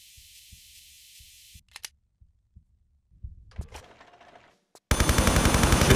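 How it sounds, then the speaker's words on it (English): An MP5 submachine gun opens up in Tomb Raider III, a loud rapid burst arriving abruptly near the end after quieter thuds and scuffling game sounds. "I'm gonna get my MP5 out for this."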